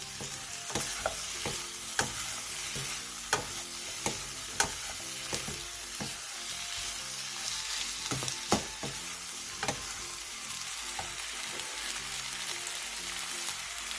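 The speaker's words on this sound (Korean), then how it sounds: "대파를 넣고 1분 정도 가볍게 볶아내주세요" Chopped green onions hiss and crackle in an oiled pan under light stir-frying, with a spatula clicking against the pan at irregular moments over a steady, close sizzle; no one speaks.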